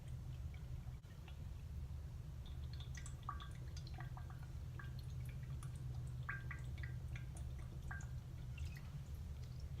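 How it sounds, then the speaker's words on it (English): Orbeez and water trickling into a cup in a glass bowl, soft scattered drips and small liquid plinks over a low steady hum, faint and close. "Orbeez coming inside the cup."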